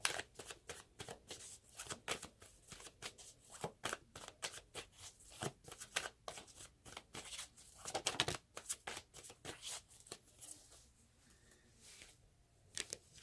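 Tarot cards shuffled and drawn by hand, giving a fast run of crisp flicks and riffles close up, with short pauses, card snaps and quieter handling toward the end.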